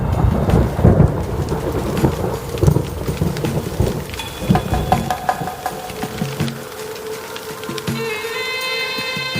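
Thunder rumbles and rolls during a rainstorm in the Kalahari, with steady rain falling on hard dry ground, loud and continuous throughout.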